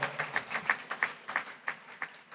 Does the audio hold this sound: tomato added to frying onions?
no